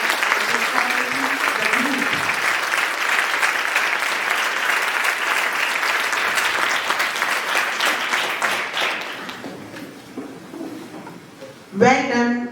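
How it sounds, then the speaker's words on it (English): Loud applause from a school audience after a class 9 staging of Shakespeare's Julius Caesar, dense sustained clapping for about nine seconds before tapering off, then a voice begins speaking near the end. "I would like to congratulate the team of Julius Caesar by clapping our hands loudly."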